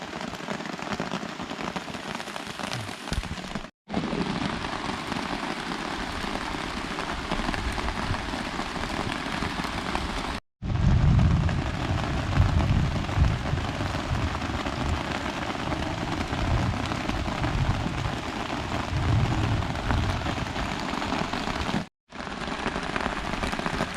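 Steady rain falling in a forest at night, a dense, continuous wash of drops hitting leaves and ground, loud and close throughout with a few brief breaks.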